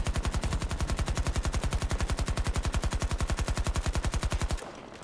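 Sustained automatic gunfire in Battlefield 2042 hammers out a fast, evenly spaced stream of loud, close shots for over four seconds, then cuts off abruptly into a faint tail.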